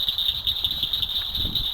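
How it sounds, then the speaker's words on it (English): Frogs call near a creek at night out in an open field, a steady high trilling chorus holding throughout at a moderate distance, with faint low rustling underneath. "You can hear the frogs."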